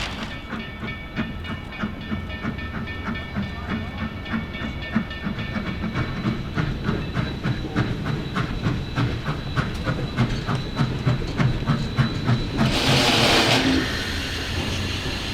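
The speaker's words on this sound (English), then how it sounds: "From here, the locomotive will steam across 6th Street and hook on to the awaiting string of golden coaches and maroon first-class cars." A Durango and Silverton narrow gauge steam locomotive moves through town in winter, crossing 6th Street, with steady rhythmic clanking and clicking of wheels and rods. A loud burst of steam hiss comes near the end.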